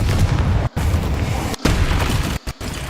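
Fiery Confringo blast spells from the Hogwarts Legacy game, a run of loud booming bursts with sharp pauses between them, thick low rumble throughout.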